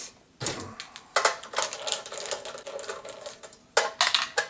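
Screws being taken out of the front plate of a hopper, heard as bursts of clicking, rattling metal work close by with short pauses between them and no talking.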